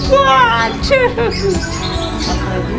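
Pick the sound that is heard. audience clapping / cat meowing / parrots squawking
parrots squawking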